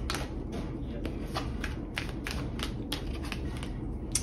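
Tarot cards being shuffled by hand, a steady run of crisp riffling flicks repeating every half second or so, close and moderately quiet over a low room hum.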